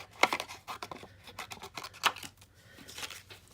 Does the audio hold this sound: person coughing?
no